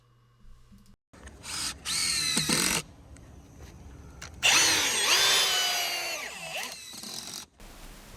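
A power drill drives small 2.5-inch screws through joist hangers into a rim board on a winter log cabin subfloor build. It runs in close, loud whirring bursts: a short one, then a longer run that strains and slows.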